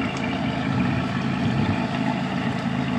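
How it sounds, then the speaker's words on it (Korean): The exhaust of a 2010 Acura TSX with a 2.4 engine idles in a steady, even low rumble, heard up close and alone without anyone talking. "배기 소리가 생각보다 우렁차게 납니다"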